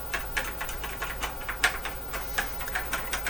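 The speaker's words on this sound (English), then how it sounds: "what I'm going to do is press a key and see if we get anything" Keys tapped on an ADM-3 computer terminal keyboard during a repair, giving a steady run of crisp, fairly close plastic clicks with no talk.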